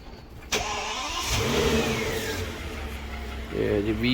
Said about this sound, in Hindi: इंजन के साउंड सुने जी।